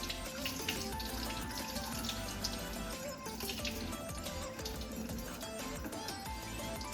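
Water that has soaked rice overnight is poured off and drained in a continuous quiet, splashing trickle, with no one speaking.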